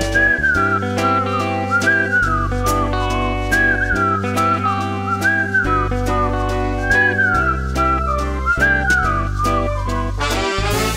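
Melodic whistling carries the tune of an Estonian spring song, a light rising-and-falling line repeated in steady phrases over a bright band accompaniment, loud and continuous throughout.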